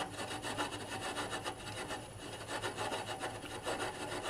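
A resharpened turning tool cutting off an olive wood nub on a lathe, giving a steady, close, rasping and rubbing scrape that pulses gently and continuously.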